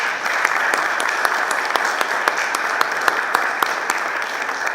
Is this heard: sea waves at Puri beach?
no